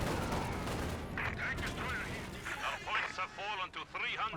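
Bombs from an air strike and gunfire in a war video game crackle and thud in a dense, moderately loud barrage, with scattered bursts and speech mixed in.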